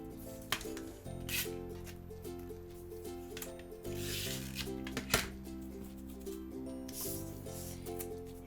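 Decorative tape handled and pressed onto a pink weekly planner page, with close, continuous rustling, crinkling and rubbing sounds and a few brief sharp ticks, fairly quiet, with a low steady hum underneath.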